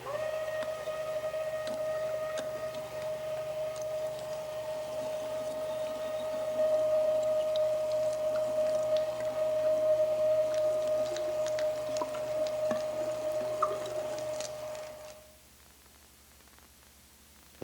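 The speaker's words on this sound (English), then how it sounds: "We're going to run the meat through the grinder for the first grind, mixing the pork fat with the venison as we go." A meat grinder runs venison and pork fat through a first grind, a steady motor hum with a constant whining tone and faint squishing for about fifteen seconds before stopping.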